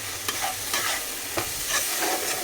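Spices sizzle in a pan with a little oil, a constant frying hiss punctuated by several scraping strokes of a spoon as they are stirred.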